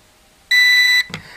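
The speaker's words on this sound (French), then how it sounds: "vous passez en mode headless. Voilà, donc là ça bip" A single short electronic beep from the remote controller of an XDrone Scout Helicute HS805W drone as it switches into headless mode, loud and close, followed by a faint click.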